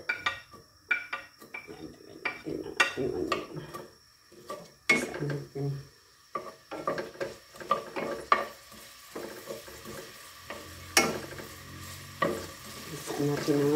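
Onion sizzling in hot cooking oil in a pan, a steady frying hiss with scraping spatula strokes and clinks of cookware coming and going, some louder stirring bursts near the start and end.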